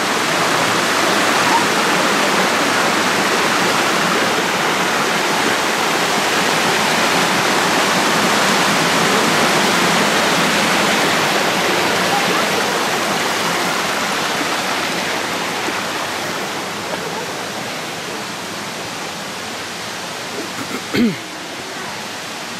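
A river stream rushes through the Yoro Valley gorge, a loud, steady broadband roar of water that fades slightly toward the end, with a single brief knock.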